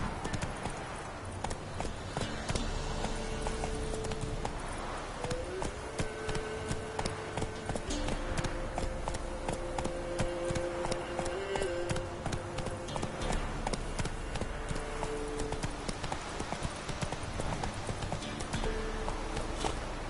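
Roach, the horse in the video game The Witcher 3: Wild Hunt, gallops with steady, continuous clip-clop hoofbeats up close, while sustained musical tones play underneath.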